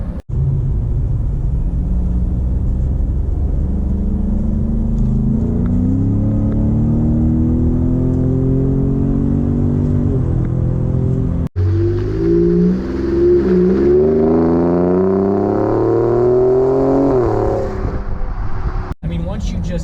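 A 2018 Ford Raptor pickup truck engine revs up and accelerates with a loud, rising rumble, easing and surging again as gears shift, close and continuous.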